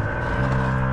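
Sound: camper van air suspension self-levelling

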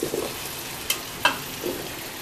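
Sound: adding potatoes to frying tomato and onion

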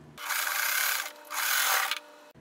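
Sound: sewing machine stitching two fabric squares together

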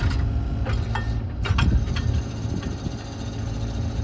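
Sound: mini excavator engine running

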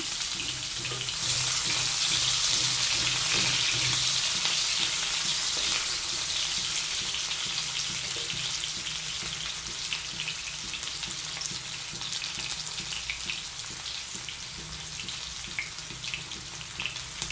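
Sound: onions frying in hot oil

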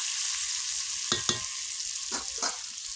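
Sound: fish head frying in oil with tomato, onion

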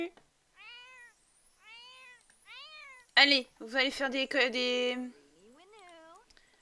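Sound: cats meowing in the video game The Sims 4 Cats and Dogs

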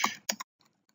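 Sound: typing on a computer keyboard

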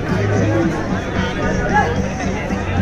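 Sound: crowd chatter at a motorcycle drag race event

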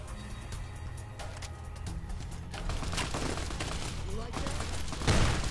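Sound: gunfire from NCR gun in video game Fallout New Vegas

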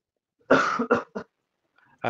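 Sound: cough

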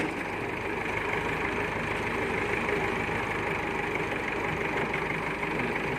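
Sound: tractor engine idling

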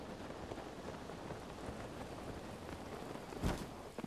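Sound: rain in Zelda Breath of the Wild video game

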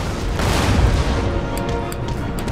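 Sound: artillery fire in a video game battle

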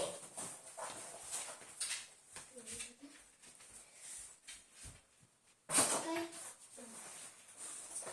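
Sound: dog sniffing and whimpering while searching cardboard boxes

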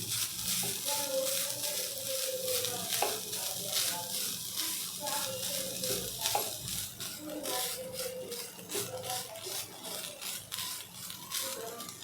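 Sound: sautéing and stirring modak filling in pan

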